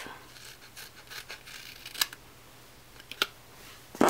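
Scissors snip paper up close in a quiet room, giving a few sharp separate cuts against low background hiss.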